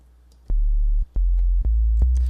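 A deep, pure sine-wave sub bass from the Massive software synth sustains in several held notes, each starting with a soft click, very low and steady.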